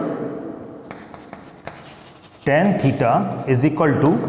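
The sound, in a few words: writing by hand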